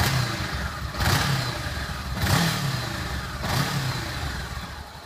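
Honda CB500X parallel-twin motorcycle engine revved three times in steady succession, each rise and fall heard close up over a rumbling idle, with no talking.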